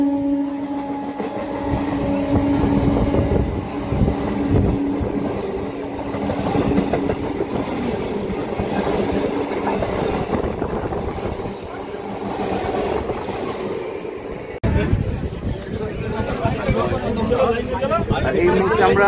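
A Namkhana local train running out of Sealdah rumbles and rattles steadily from inside the carriage, with a continuous rolling clatter and a murmur of passenger chatter in the background.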